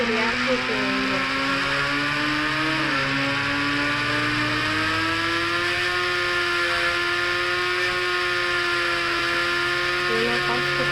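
A fire engine drives in a video game, its engine holding a steady, loud droning hum whose pitch creeps slowly upward as it accelerates. The drone continues without a break throughout.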